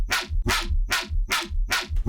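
A reversed, heavily processed sample called Swiggle from Effen's pack plays as five rhythmic, swelling bursts with a bark-like, throaty character over a low thumping bed, loud and without speech.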